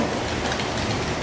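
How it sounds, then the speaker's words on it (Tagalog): Steady, dense rainfall hisses continuously, loud and close, with no gaps. "Malakas po yung ulan"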